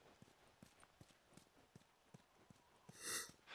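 Horse hooves clopping at a slow, even walk in The Last of Us, soft individual hoof falls spaced about half a second apart, ending with a louder rustle or snort burst.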